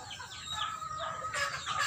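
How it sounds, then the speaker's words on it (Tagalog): Chickens cluck beside a muddy house yard, several birds making short, overlapping squawks and clucks at close to mid distance, with no talking. "Mga manok."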